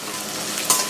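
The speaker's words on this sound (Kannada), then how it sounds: "ಈರುಳ್ಳಿ ಸ್ವಲ್ಪ ಬೆಂದ ಮೇಲೆ ಕರಿಬೇವನ್ನು ಹಾಕಿ" Curry leaves dropped into onions frying in a pan for wheat rava uppittu, a steady close sizzle with a brief sharper crackle burst near the end.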